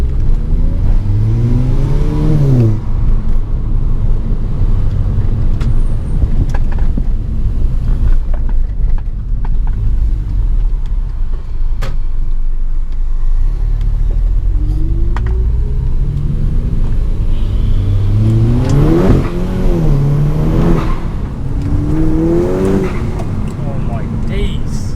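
A 350 bhp VW Golf GTI engine accelerating on an open road, heard from inside the car as a loud rumble that climbs in pitch through several gears in repeated bursts, with someone talking over it.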